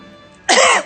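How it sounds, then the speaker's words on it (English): One sharp, loud cough from a person, close by and alone, following a brief quiet moment. "I think I'll get real close to you and cough on you then."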